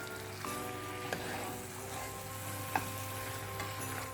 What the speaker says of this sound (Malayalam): നന്നായി ഇളക്കി മിക്സ് ചെയ്തെടുക്കാം